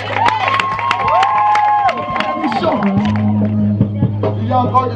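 A wedding congregation in a church cheers and acclaims Jesus, a loud crowd of voices, shouts and clapping over sustained music, with the cheering rising and falling throughout.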